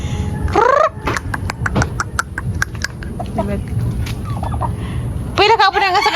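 Turkeys gobble loudly at the start and again near the end, with sharp clicks and clucks and background voices in between.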